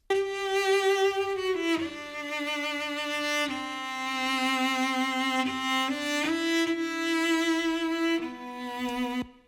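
Low orchestral bass strings play sustained, bowed notes, moving slowly from pitch to pitch with a soft ring of Valhalla Room reverb ambience around them.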